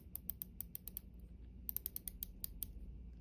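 Two quick runs of small, crisp mechanical clicks from a diving watch bezel being rotated, faint and close, with a short pause between them.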